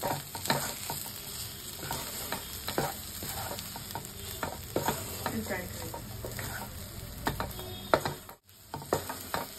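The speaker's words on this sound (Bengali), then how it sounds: "এবার সবকিছু ভালো করে মিশিয়ে নেব" A filling being mixed with pepper, Kashmiri chili powder, chili flakes and chopped coriander: close, busy scraping and stirring strokes against the pan over a soft sizzle, with rhythmic clatter throughout and a brief pause near the end.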